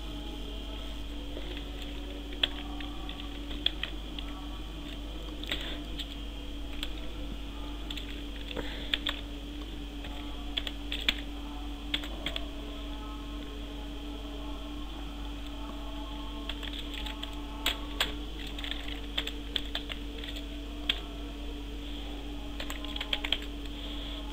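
Someone types an email address on a computer keyboard while making a simple banner, with light keystrokes tapping in uneven runs and pauses over a constant low electrical hum. The typing is close, with no speech.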